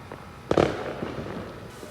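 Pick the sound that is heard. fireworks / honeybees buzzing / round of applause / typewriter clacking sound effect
fireworks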